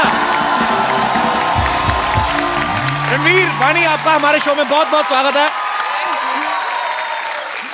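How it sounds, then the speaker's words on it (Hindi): A television comedy show's studio audience cheers and claps loudly to welcome two guests, with whoops over the applause while the host speaks a greeting into the noise. "रणवीर और वाणी के लिए जोरदार तालियां।"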